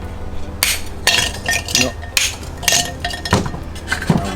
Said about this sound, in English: So with a hammer, be very careful on this. Just break a little bit.